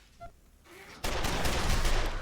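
Assault rifle fire in Wasteland 2: after a quiet second, a sustained, dense burst of rapid automatic shots crackles loudly through to the end.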